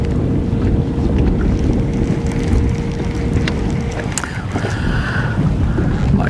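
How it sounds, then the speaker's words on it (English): Strong wind buffets a lake during bass fishing, a constant loud low rumble across the whole stretch, with a faint steady hum fading out partway through. "This wind is unreal."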